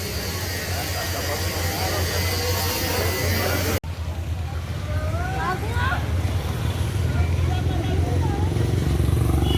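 A motorcycle engine drones steadily and close by the whole time, with people talking over the constant rumble.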